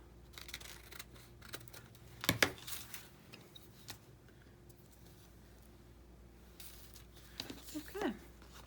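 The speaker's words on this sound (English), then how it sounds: "I think I'm going to cut it a little wider so I can wrap some of this around" Scissors snip through tissue paper in a quiet crafting space, one sharp cluster of cuts followed by faint rustles and a few soft snips later, with quiet talk around it.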